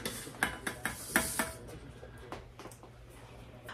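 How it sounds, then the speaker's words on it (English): Batter whisked in a bowl: a quick run of sharp clinks against the bowl, then softer, sparser taps, close and alone without talk. "give her a good whisk."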